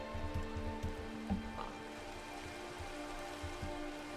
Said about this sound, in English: Okay, it's raining, it's pouring.